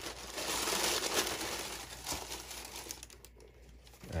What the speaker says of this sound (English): Sorry for the crinkling there.